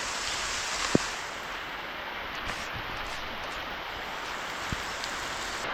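Heavy first rain of the season falls suddenly during mango picking, a steady dense hiss of drops with a couple of sharp close taps, continuous and alone.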